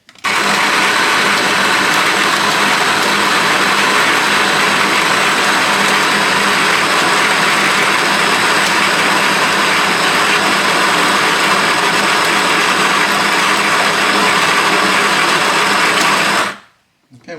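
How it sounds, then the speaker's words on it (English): Electric coffee grinder grinding 14 grams of coffee beans for an espresso shot, a loud, steady whirring drone close by that runs unbroken for about sixteen seconds and then cuts off. "then I'm going to grind 14 grams of coffee"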